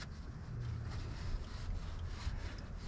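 CV bolts from a Mendeola 2D flange drive seal job are scrubbed by hand, making a quiet, continuous rubbing and scraping close by.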